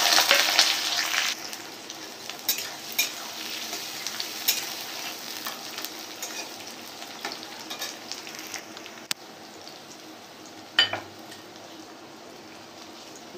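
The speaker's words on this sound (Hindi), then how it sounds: "प्याज को अच्छा से फ्राई करेंगे।" Onions frying in a pan with ginger for a spiced paneer curry: a hissing sizzle that starts strong and then settles lower, broken by scattered clicks and scrapes of stirring, with no talking.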